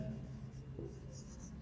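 Pen writing notes during an electrical engineering lesson, a faint, steady scratching over low room hum for under two seconds, with no voice heard.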